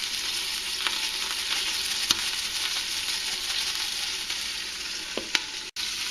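Duck legs browning in a hot pan, seasoned for a honey-orange dish, giving a constant, even sizzle with a few faint clicks and a brief dropout near the end.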